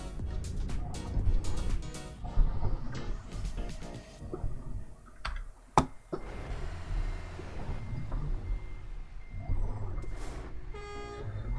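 Truck reversing beeps in the Euro Truck Simulator 2 Alps driving game, short repeated electronic tones over a steady engine rumble, with a few louder knocks and bursts mixed in.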